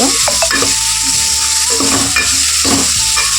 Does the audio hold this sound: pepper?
yes